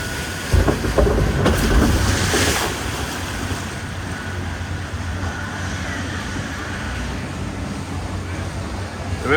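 On the River Caves boat ride at Blackpool Pleasure Beach, a steady wash of rushing water and wind fills the scene, with a few louder splashes and knocks early on before settling into continuous churning.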